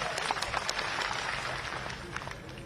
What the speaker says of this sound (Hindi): तो जोरदार ताली बजा के उनका स्वागत करो।